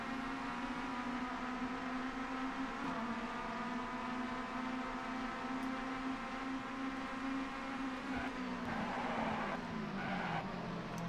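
Touring car engines drone steadily in TOCA 2 Touring Cars on PS1, a constant buzzing whine from several cars that shifts pitch as they brake and accelerate through corners, with brief tyre scrubbing near the end.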